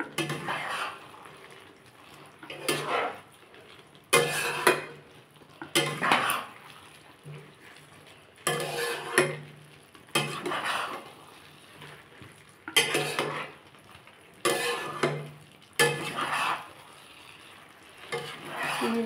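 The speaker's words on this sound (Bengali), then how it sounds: "এবার বন্ধুরা এটা সমানে আমি নাড়বো।" Kul (jujube) pickle being stirred with chili powder in a pan, repeated bursts of metal spoon scraping and clanking against the pan at irregular intervals, with a soft sizzle between strokes.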